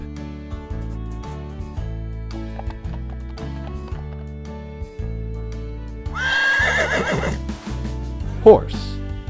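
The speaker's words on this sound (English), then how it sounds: "Horse." A horse neighs loudly for about two seconds over steady cartoon background music, in a children's animal alphabet game, followed by a brief sharp accent.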